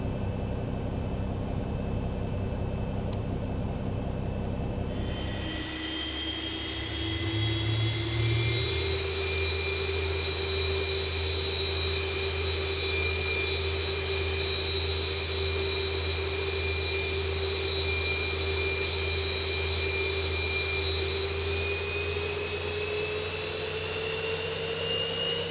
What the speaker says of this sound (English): We'll go ahead and we'll start engine number 2.